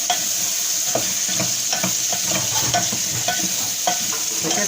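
A spoon stirs aloo gobi masala in a hot pan, the steady scraping and clinking repeating in a loose rhythm over a continuous close sizzle of frying.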